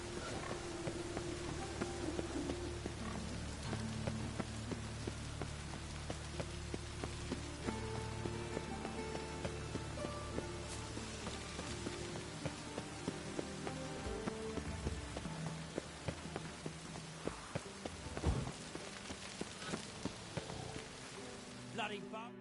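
Steady rain patters throughout the video game The Witcher 3: Wild Hunt, with scattered footstep-like taps and a layered musical background underneath.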